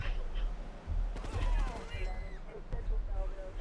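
Bursts of gunfire in GTA 3 Definitive Edition, several sharp shots close together over steady game noise while people talk.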